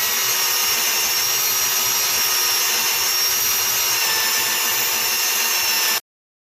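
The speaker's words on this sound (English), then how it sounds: "I've been honing here for about 20 to 30 minutes, and it's very slow going" A steel fork tube from a BMW /5 motorcycle is honed by hand with lapping compound. It makes a steady, close, abrasive rubbing hiss with no pauses that cuts off abruptly near the end.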